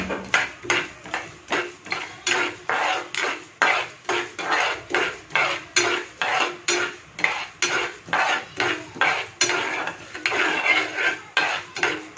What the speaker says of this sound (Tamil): இப்போ இதில் கொஞ்சம் கடுகு போட்டுக்கலாம் கடுகு உளுந்தம்பருப்பு போட்டுக்கலாம்